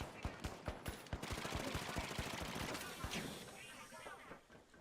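Rapid gunfire in the video game The Finals, a fast automatic burst of sharp shots followed by scattered single cracks and a fading tail, with a voice speaking alongside.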